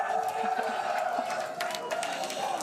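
A large crowd at a Starship rocket launch cheers continuously, a dense wash of voices and scattered claps with occasional louder shouts, heard at middle distance.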